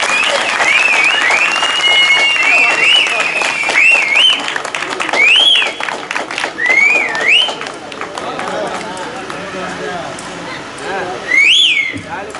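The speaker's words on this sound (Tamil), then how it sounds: "கைதட்டி ஆரவாரம் செயல்பாடு கேட்டுக்கொள்கிறோம்" An audience at a Tamil stage drama, Sri Valli Thirumanam, applauds during an honoring ceremony: loud sustained clapping with sharp rising whistles that eases after about eight seconds, then one more brief burst, with voices mixed in.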